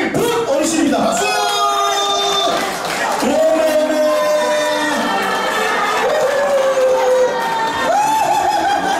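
A crowd of elderly guests cheers and shouts at a seniors' party singing contest award in Dongsam 2-dong, Busan, loud and continuous, with voices rising in drawn-out calls.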